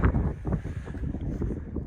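Strong outdoor wind buffets the microphone in a steady, dense rumble that fills the whole stretch with no pauses and no voices.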